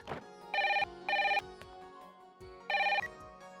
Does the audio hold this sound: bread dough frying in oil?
no